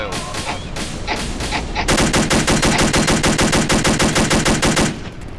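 BAR rifle firing at a vehicle in the World War II setting of Arma 2, a few separate shots followed by a long rapid automatic burst of about twenty-five close, loud rounds that stops abruptly.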